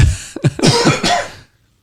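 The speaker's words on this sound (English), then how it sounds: "That's like your third cough." A few harsh, wet coughs in quick succession, close and fairly loud, ending abruptly into silence.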